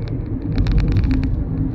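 A car rushes past in the passing lane on Al-Wasl Road in Dubai, a close, loud rumbling whoosh with tire roar swelling and fading over a second or two.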